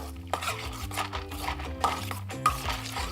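Mayonnaise being stirred into a tartare mixture in a bowl, with a steady run of wet scraping and clinking utensil strokes at a moderate, close level and no talking.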